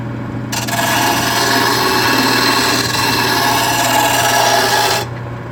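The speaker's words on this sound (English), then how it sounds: "Put an edge on the blade here. Real easy to do with the grinder." A grinder sharpening the edge of a blade gives a loud, steady rasping grind for about four and a half seconds, with a low motor hum running underneath before and after.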